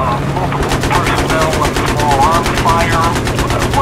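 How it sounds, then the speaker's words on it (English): Rapid small arms and machine gun fire in Battlefield 3 rattles continuously and loudly over a low helicopter-like drone, with voices talking through it. "We're seeing multiple personnel with small arms fire."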